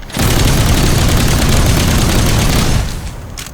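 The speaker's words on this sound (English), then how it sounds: "if I use my missile barrage like this" A missile barrage in the video game Outpost Infinity Siege sets off a loud, continuous roar of overlapping explosions lasting about three seconds before tapering off.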